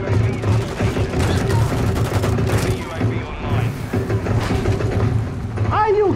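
Rapid gunfire bursts from a Call of Duty: Modern Warfare II multiplayer match, repeated shots crackling loudly over a dense game soundscape with voices and effects throughout.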